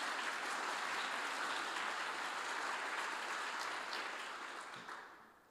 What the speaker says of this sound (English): I needed that applause because I need to take a drink.